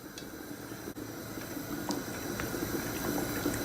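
A pot of chicken stew with chopped garlic boils steadily, giving a faint, continuous bubbling hiss with small pops and no voices.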